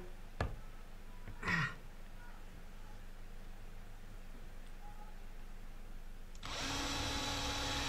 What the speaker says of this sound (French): Je perce les ouvertures nécessaires au passage des câbles d'alimentation pour la voie de garage.